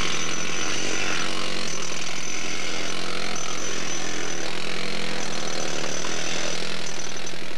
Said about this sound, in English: With the air hammers, they could break out big pieces of ice.